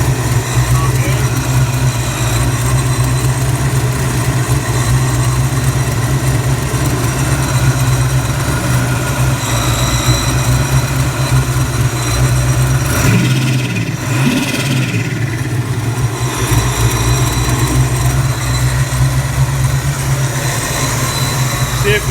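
A Clevor engine fitted with DIY exhaust headers idles at its first startup, a loud, steady low rumble that carries on throughout, with a brief dip in the middle and people talking faintly beneath it.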